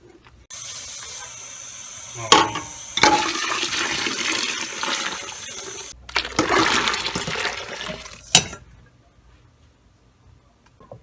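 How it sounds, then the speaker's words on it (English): Water is poured into a batch of homemade laundry soap made with Fels-Naptha soap, a close, loud gushing stream in two long bursts with clunks in between, then quiet. "So I'm going to add 20 cups of water."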